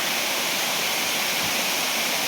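Waterfall in Chopan Block, Sonbhadra, a dense steady roar of falling water that fills the whole clip evenly and loudly, with no voices.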